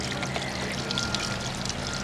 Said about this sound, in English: now the water, can you see, is draining into my